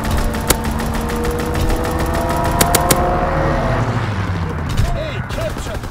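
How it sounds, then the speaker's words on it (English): Gunfire from an aircraft strafing run in Call of Duty: WWII, with dense rapid bursts over game noise and speech-like chatter for the first three seconds, then fading into a busy background. "Strafing run inbound."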